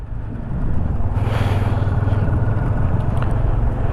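Steady, loud engine rumble of motorcycles, swelling after a quiet start and holding a constant drone, like bikes pulling away close by from a resort at Dublagadi Sea Beach.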